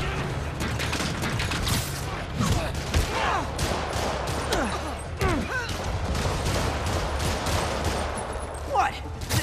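Rockets firing and exploding in Spider-Man Remastered, a rapid barrage of sharp blasts and mechanical clatter repeating throughout, loud and close, with voices speaking over the action.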